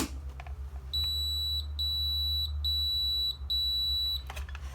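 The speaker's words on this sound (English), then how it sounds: "keeping that button pressed until you hear the beeps finish" A Farfisa FP52PL proximity reader gives a run of four long, clear electronic beeps during a factory reset, evenly spaced with short gaps, loud and close over low background hum.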